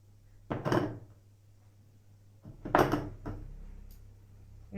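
Two brief gritty scraping crunches as glass rims are twisted in sugar on a plate, close and separated by a short quiet pause.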